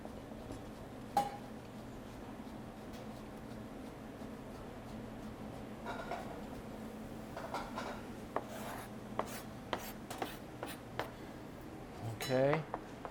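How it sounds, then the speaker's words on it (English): A kitchen knife slices rolled basil leaves into thin chiffonade on a cutting board, giving light irregular taps and scrapes that grow busier toward the end, quiet against a low room hum. "stack and roll the leaves. And then we want to slice them as thin as possible"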